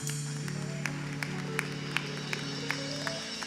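Church congregation clapping during worship, sharp claps landing at a steady rhythmic beat over sustained music and singing tones in a reverberant hall.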